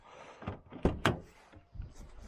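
Car door handle with proximity sensors, touched to open and then lock, giving a few close mechanical thunks and clicks in quick succession with a soft latch sound trailing after.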